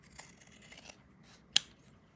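Scissors snip once, sharp and close, cutting straight across fabric at the end of a zipper on a sewing bag project, with faint rustling of the material before the cut.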